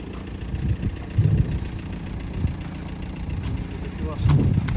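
A steady mid-pitched tractor engine rumble runs throughout, rising slightly near the end, with a voice faintly heard over the machinery.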